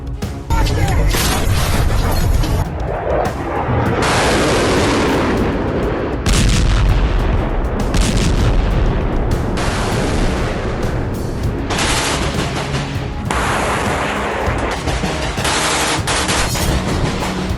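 Loud wartime barrage of explosions, gunfire and missile strikes, with dense bursts and booming blasts piling up continuously and almost no pause, mixed with faint talk.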